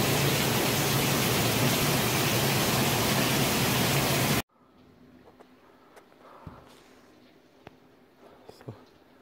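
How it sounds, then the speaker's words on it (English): Heavy rain pours down in a dense, loud roar during a summer thunderstorm, then cuts off abruptly to a much quieter background with faint scattered knocks and clicks. "As you can tell, it's still pouring."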